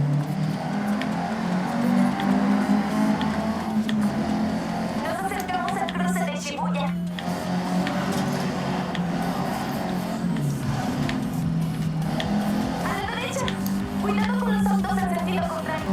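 A racing video game played with a generic PC joystick gives steady engine drone with revving rises and falls and brief tire noise as the car brakes and turns, while someone talks over it.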